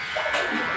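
A Mi beard trimmer set to its 1 setting buzzes briefly while shaving, a close, short electric whir with a faint voice alongside it.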